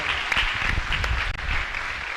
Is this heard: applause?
yes